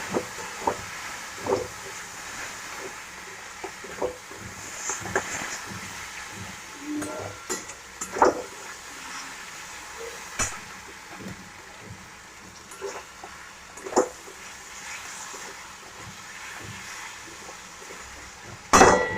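Spinach ghonto being stirred and fried with spices in a pan: sparse metallic clinks and scrapes of a spoon against the pan at an irregular pace over a low background hiss.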